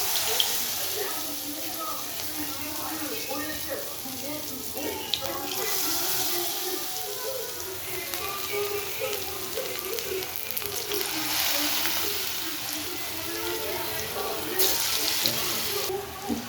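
Banana flower pakodas, dipped in a gram flour, rice flour and cornflour batter with salt, chili and garam masala, fry in hot oil with a steady, close hiss and crackle throughout, with faint voices now and then.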